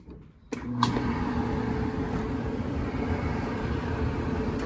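A repaired electric heater switched on after a brief quiet start, its motor and fan spinning with a steady, even whir and a faint click at the onset, running alone without voices.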